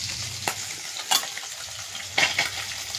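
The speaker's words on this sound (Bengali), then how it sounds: "আমি এখন রান্না করছি। এই যে বসেছি, এই যে রান্না হচ্ছে।" Food frying in a pan while being stirred, with a constant sizzle broken by three or four louder scraping bursts from the spoon, close by and with no talking.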